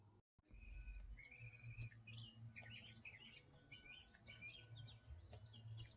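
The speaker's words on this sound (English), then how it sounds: "Lots of pretty bird sounds in the garden." Several birds chirp and sing in a garden, bright tweets and short trilled phrases overlapping at moderate distance over a faint outdoor background, with a brief knock at the start.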